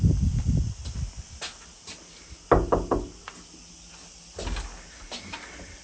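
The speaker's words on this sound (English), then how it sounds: "Then I'm going to knock the door." Knuckles rap on the door of a house in a few short, sharp bursts of knocks, close and fairly quiet, separated by gaps with faint handling noises.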